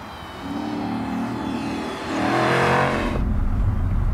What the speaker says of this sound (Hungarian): Minden gázadást hallani.